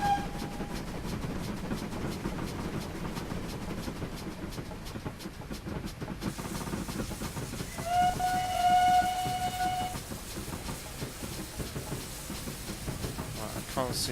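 A Collett Goods steam locomotive rumbles along the Riviera Line with a continuous rolling chug, its whistle giving a short note early on and then a longer, clear blast midway.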